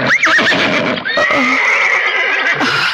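A horse whinnies loudly and close, a long shrill neigh that trembles and falls, with faint hoof clatter and noise beneath it.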